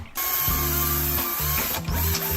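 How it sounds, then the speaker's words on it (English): A power drill whirs in short bursts into metal chassis parts of a radio-controlled ICON 4x4 FJ44 replica, starting, stopping and restarting three times, close and loud, with a bright high whine. "I'm drilling the holes for the rear bump stops"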